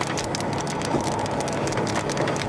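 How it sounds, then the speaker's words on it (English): Hail pelting down during a tornado-producing storm: a dense, loud, continuous patter of hard stones striking surfaces nearby, steady and unbroken with no voices. "How big is this hail?"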